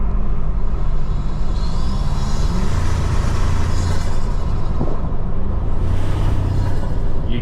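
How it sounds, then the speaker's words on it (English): Wind buffeting through an open window of a Toyota Tacoma Trailhunter on the move, a loud, constant broadband roar with low rumble from the road and engine underneath. "You hear the wind coming out of this?"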